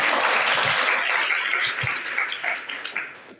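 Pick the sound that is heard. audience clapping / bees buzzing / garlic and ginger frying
audience clapping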